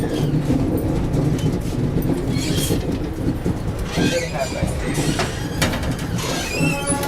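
A summer special train passes close alongside, giving a loud, continuous rolling rumble and rattle of wagons with screeching and clattering bursts throughout, while voices talk faintly underneath.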